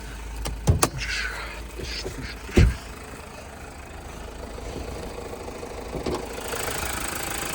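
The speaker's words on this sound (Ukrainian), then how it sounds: "Під капоткою трудиться двигунчик" Mazda CX-5 2017 with the 2.2 Skyactiv-D diesel running under an open hood, idling with a low steady rumble, a couple of sharp knocks or clicks near the start and a thump midway, no talk.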